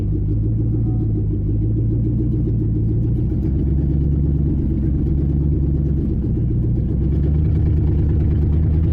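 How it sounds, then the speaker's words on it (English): A vehicle engine with misfiring spark plugs rumbling low and close, its uneven loping beat surging and stumbling as it accelerates, with no talking. "I can hear them plugs cutting in and out."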